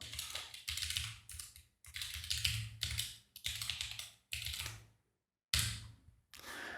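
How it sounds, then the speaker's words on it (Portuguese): Bursts of clattering keystrokes on a computer keyboard, typed in quick rhythmic runs separated by short pauses, close and fairly quiet, with no one speaking. "acredito que eu digitei exatamente os mesmos caracteres que eu havia digitado antes"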